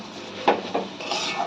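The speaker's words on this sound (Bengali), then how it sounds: "গোবিন্দভোগ চালের সঙ্গে মোচাটাকে ভালো করে মিশিয়ে নিতে হবে।" Gobindobhog rice being mixed with banana flower in a pot, brief scraping and clinking of a spoon against the vessel in short close strokes.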